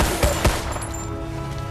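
Gunfire in the PS3 game Battleship: a few sharp shots crack out over a steady mechanical drone with a faint high whine in the middle.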